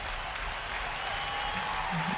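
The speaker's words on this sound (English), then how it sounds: "It's all worth it when I hear the canned clap track at the end." Canned applause clap track plays at the end of a live rock blues performance, a steady wash of clapping for a couple of seconds with a faint voice underneath.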